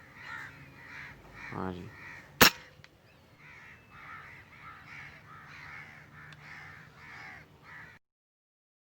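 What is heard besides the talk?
crow cawing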